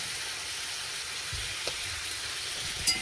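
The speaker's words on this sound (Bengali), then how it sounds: "একটু ভালো করে ভেজে নেব।" Ground cumin and salt fry in a pan, giving a soft, steady sizzle close by with a few faint taps and no talking.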